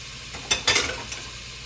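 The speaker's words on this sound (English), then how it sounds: "I've got some onions that I'm going to saute a little bit. Just drop them right in there." Onions dropped into a hot pan for a light sauté, giving a short burst of sizzling and a few stirring scrapes over steady background hiss, with no talking.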